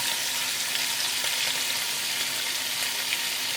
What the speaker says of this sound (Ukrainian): Поки що кришкою не накриваю, щоб цибуля не тушкувалася, а смажилася.